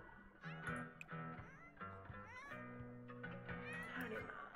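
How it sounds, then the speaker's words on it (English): A cat in The Sims 4 gives several drawn-out meows and caterwauls over game music and sound effects, quite faint overall, with speech in the mix. "That's a cat!"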